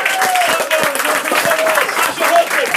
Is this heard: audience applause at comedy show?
yes